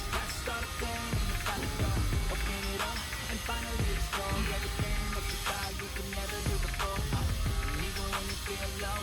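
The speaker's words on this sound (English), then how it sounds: "I was able to find one of these ratcheting wrenches" Ratcheting wrench clicking steadily on an LS3 V8 engine as a part is loosened, bursts of rapid metallic pawl clicks repeating close up with some faint handling noise.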